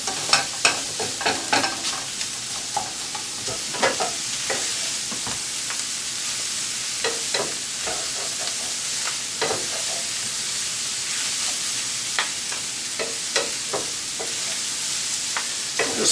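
Pineapple fried rice with chicken and vegetables stirred in a hot pan over medium heat, with a steady sizzle and repeated sharp scraping and clacking strokes of a utensil, close and fairly loud throughout.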